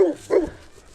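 Dog barking near a rural home, a couple of loud, close barks with whimpering tones, then quieter trailing noise.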